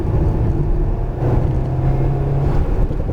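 An Alpine A110R on the Loheac circuit comes back onto the throttle, its engine a loud, steady rumbling drone heard from close by, with no speech over it.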